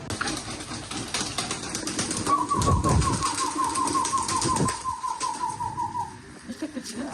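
Domestic pigeons kept by a breeder coo nearby in a soft rolling trill over a light background rumble, with a faint engine somewhere in the distance.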